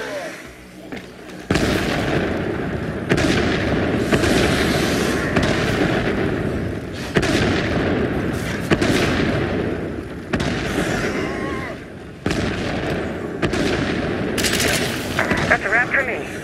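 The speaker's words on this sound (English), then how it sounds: "I'm gonna want a mortar barrage soon," DeadHeaven, a video game, plays out with a mortar barrage and gunfire: loud dense explosions and rapid shots crackle almost continuously in repeated heavy bursts, while a voice speaks intermittently beneath the din.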